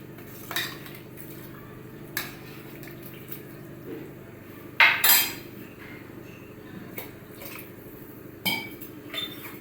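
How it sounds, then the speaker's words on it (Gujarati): A spoon stirs salted vegetable dal khichdi in a metal pressure-cooker pot: scattered clinks and scrapes of metal on metal, a few louder knocks against the rim, with soft wet stirring between them and no talking. "હવે એને હલાવી દઈએ."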